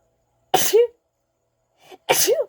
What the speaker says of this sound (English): those sneezes came out of nowhere.